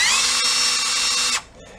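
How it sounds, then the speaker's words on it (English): A power drill spins a polishing compound pad at steady high speed, a loud continuous whine that cuts off abruptly near the end, with no talking. "get that chucked up in the drill"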